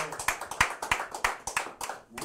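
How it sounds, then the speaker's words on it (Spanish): A small audience gives a few slow, rhythmic claps after a song, with about ten separate claps in a sparse, even pattern. The sound is close and moderately loud. "Muy bien, un aplauso."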